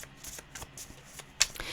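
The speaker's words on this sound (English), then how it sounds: "I'm really struggling to shuffle this deck" A deck of tarot cards is shuffled by hand in short, papery riffling bursts, close and fairly loud, with a sharper flurry near the end and no talking.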